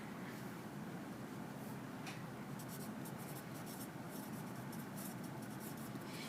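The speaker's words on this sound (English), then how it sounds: "So we're going to write that in here." A pencil scratches across a paper worksheet in a continuous, close rubbing stroke, steady and unbroken over a dense hiss of room noise.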